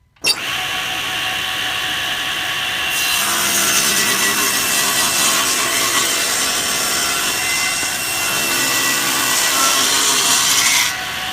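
Table saw ripping a wooden strip along the fence, a steady loud whine and rasp of the blade through wood lasting about ten seconds, with a brief pitch change partway and a clean start and finish.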